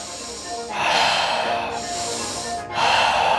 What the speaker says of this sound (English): Take a few more powerful breaths.